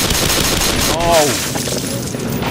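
Gunfire in the first-person shooter Black Mesa Source, a loud burst of shots blending with game noise and a brief whooshing effect, with a voice under it.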